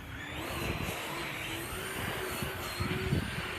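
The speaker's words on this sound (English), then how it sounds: "This is one of our EDF four-wheel drive cars" An EDF-powered four-wheel drive RC car runs with a continuous high-pitched whine from its ducted fan, steady and fairly close, with a few brief rattles and bumps near the end.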